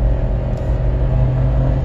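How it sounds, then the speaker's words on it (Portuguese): Chevrolet Onix Plus turbo automatic car engine accelerating hard uphill, a steady loud low rumble and drone heard from inside the car with no talk. "eu tô acelerando tudo e o cara tá na frente"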